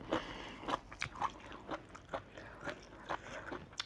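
Close, crunchy chewing and biting come in irregular bursts while someone eats grilled mackerel chili dip, with no talking.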